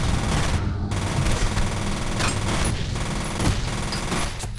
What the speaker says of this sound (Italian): Il problema non sono i colpi che sparo, ma